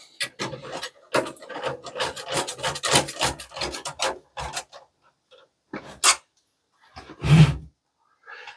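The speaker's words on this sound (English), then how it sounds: "Let's put the second screw in here." A screw is driven into a computer part by hand with a screwdriver, giving a run of dry rasping, scraping turns, then quiet, then a final firm rub or creak near the end, with no talk over it.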